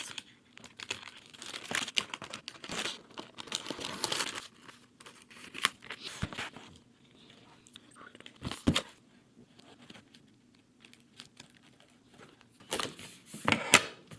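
Paper edges of a journal page being trimmed up close, with crisp snips, crinkles and rustling in uneven bursts separated by quiet pauses.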